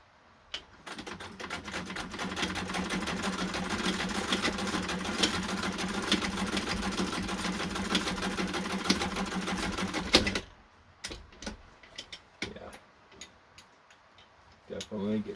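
Hand-crank Singer 66 sewing machine stitching, a steady rapid ticking whir close by for about ten seconds, followed by scattered clicks and handling sounds.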